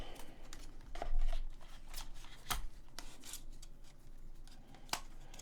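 Quiet plastic clicks, snaps and rubbing as the arms and propellers of a DJI Mavic Pro drone are folded up by hand, a series of short close handling taps over a faint background.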